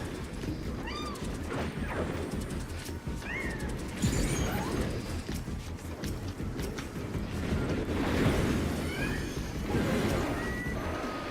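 A cat meows in a video game during a Final Fantasy XIV savage raid fight, several short meows rising over dense, loud battle music and combat effects that play continuously.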